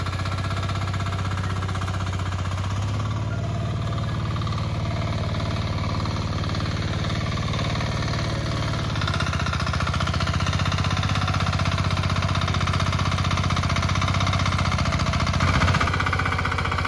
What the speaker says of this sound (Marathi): ज्या वावरातून आम्ही तरवा काढतोय तिथेच ट्रॅक्टरच्या साह्याने नांगरणी चालली बघा